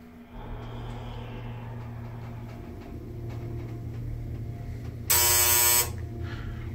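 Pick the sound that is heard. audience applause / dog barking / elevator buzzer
elevator buzzer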